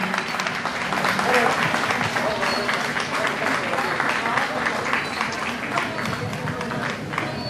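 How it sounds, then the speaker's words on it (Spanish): Community gathering in Cuitláhuac, Veracruz, where a crowd claps steadily during an honoring, the applause loud and sustained for several seconds with voices mixed in. "Ese aplauso que se escuche fuertemente."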